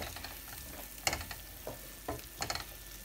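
Caramelized citrus pineapple chicken sizzles softly in a pan while a utensil stirs it in a few scraping strokes at uneven intervals. No one talks.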